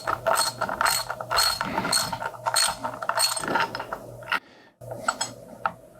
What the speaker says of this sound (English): So I'm going to pull that bolt out real quick.